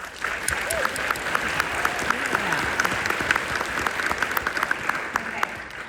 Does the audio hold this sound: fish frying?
no